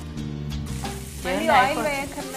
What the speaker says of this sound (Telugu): ఉల్లికాడలు తరుగు వేసి బాగా ఫ్రై చేసి